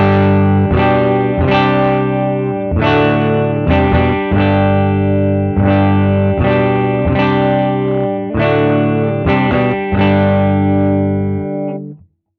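Electric guitar played through a valve tube amp running fixed bias with negative feedback switched off, giving loud, driven, sustained chords and notes in a steady rhythmic pattern, with no talking.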